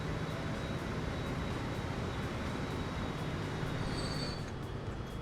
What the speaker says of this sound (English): And these are going to be huge trains now.